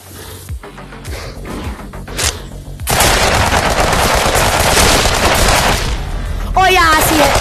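Rapid automatic gunfire in a VR monster shooter game, loud sustained bursts of machine-gun shots after a few scattered single shots, with a person talking in between.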